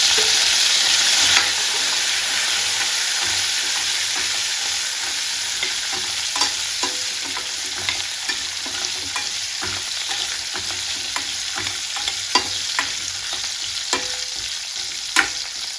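Small onions frying and stirred in a pan for a curry: a steady close hiss of sizzling oil with repeated scraping and clinking stir strokes throughout, louder at the start, no talk.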